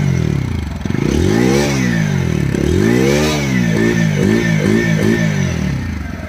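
A TVS Apache RTR 160 4V motorcycle exhaust revving loudly and close, with repeated rising and falling throttle blips that quicken into short sharp bursts toward the end, with no voices.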